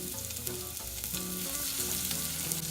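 Carrots sautéing hard in hot oil in a pan, a constant close crackling sizzle with small pops and stirring, no voices.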